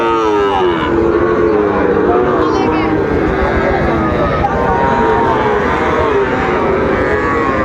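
Sahiwal cattle low loudly and repeatedly at a busy cattle market, long drawn-out moos rising over a constant crowd din with people talking throughout.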